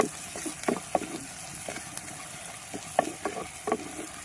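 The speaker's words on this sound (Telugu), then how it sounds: "పచ్చివాసన పోయేదాకా వేయించుకుందాం." Ginger garlic paste frying in a pan with turmeric for a boti curry, a soft sizzle punctuated by scattered stirring clicks and scrapes, close and fairly quiet with no one talking.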